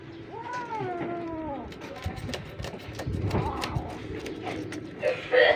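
Kittens give several thin rising meows near the start, then the scene fills with rustling and clattering movement at a window, with a faint voice now and then.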